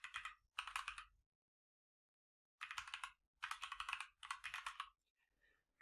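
Fingers type a name on a computer keyboard in short, rapid bursts of keystrokes separated by a long pause, close and quiet with no other sound.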